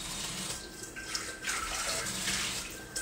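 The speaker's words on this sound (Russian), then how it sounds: "Беру кастрюлю, наполняю ее водой." Tap water runs steadily into a kitchen pot, a continuous close hiss and splash that slightly shifts in tone as the pot fills, with no talking.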